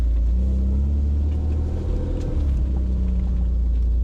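A BMW E36 drives along after a brake upgrade and slows under braking, its engine a steady low rumble close by, with no talk.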